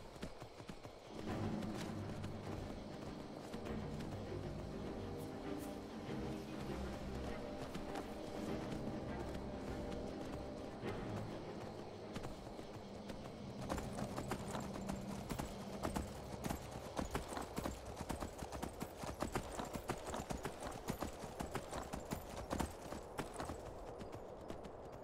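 Horse hooves clip-clop steadily in the video game Skyrim, a continuous rhythmic patter over a dense wash of game sound and music that grows busier midway.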